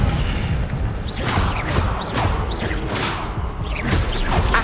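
Incendio fire spells cast repeatedly in Hogwarts Legacy, a series of whooshing, booming bursts with rising swishes roughly every half second, loud and close over a steady game ambience, no talk.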